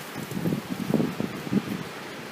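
Strong wind buffets and rumbles against an outdoor microphone at a trackside spot in Rosenbach, in uneven close gusts.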